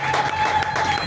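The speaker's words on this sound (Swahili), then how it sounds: "Mpigieni makofi mazuri jameni," A church congregation applauds a guest during a fundraising gathering, with a short burst of dense, moderately loud clapping from the crowd.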